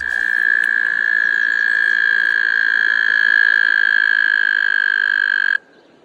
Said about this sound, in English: Don't hate a frog for being a frog.